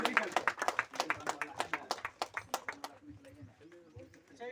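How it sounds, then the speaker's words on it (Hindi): At a village water festival in India, an outdoor crowd gives a burst of rhythmic clapping, sharp claps in quick succession that stop partway through, then a voice speaks and soft background sounds continue. "एक बार जोरदार से सभी के लिए तालियां होनी चाहिए।"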